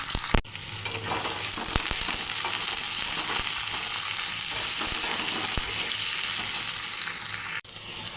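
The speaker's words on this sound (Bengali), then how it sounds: "আর একটু তেল দিয়ে সবজিগুলো ভেজে নেব।" Chopped carrots and other vegetables frying in oil in a home kitchen pan for fried rice, a loud continuous close sizzle with scattered stirring scrapes, starting and ending with sharper knocks and no talk.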